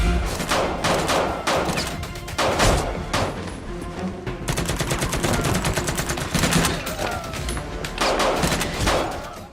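Rapid gunfire from a film gunfight scene, bursts of automatic shots and fusillades cracking in dense, continuous volleys, loud and close, with brief dips between bursts and no talking.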